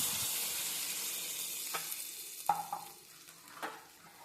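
Spice masala for amra chutney being stirred in a pan, a faint hiss that fades, then a few scattered scrapes and taps of a spoon, quiet and close with no talking.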